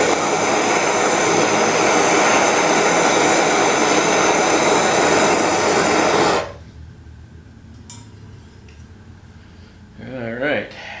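A torch roars loudly and steadily while heating solder on a house repair job, then cuts off abruptly, leaving quieter room sound and a brief voice.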